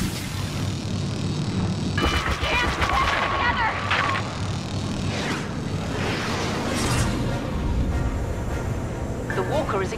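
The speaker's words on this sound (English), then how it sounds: "Airstrike incoming." Airstrike explosions rumble through a Star Wars Battlefront battle, several booms and blasts breaking out across the scene over constant low battle noise, with game voices and tones mixed in.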